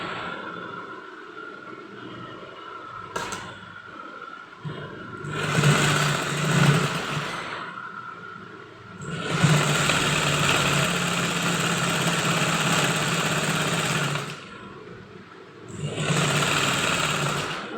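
A sewing machine stitches the sleeve of a kurti in several bursts of fast, whirring, rattling runs, with quieter pauses between them, close and loud and without speech.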